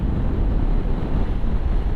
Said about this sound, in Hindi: बहुत तेज हवा चल रही है यहाँ पर।